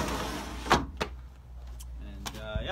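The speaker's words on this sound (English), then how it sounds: "A sliding screen door." A sliding screen door on a 2018 Logan Coach five-horse trailer slides along its track, giving a couple of close, sharp knocks followed by a brief scraping rattle.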